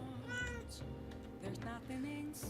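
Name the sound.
cat meowing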